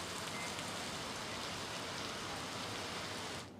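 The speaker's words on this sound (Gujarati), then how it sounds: "ધોધમાર વરસાદ શરૂ થયો છે" Heavy monsoon downpour in Olpad, Surat district, a steady dense roar of rain pouring onto roads and surfaces, loud and continuous throughout with no talk, easing slightly at the very end.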